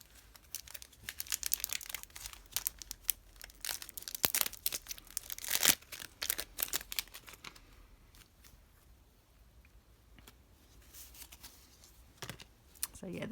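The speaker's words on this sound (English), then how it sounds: "I always struggle to get these little packs. They're so well wrapped for being posted." Well-wrapped small posted packs crinkle and tear as they are opened by hand, with busy close-up rustling bursts that thin out and return, plus a faint voice in the background.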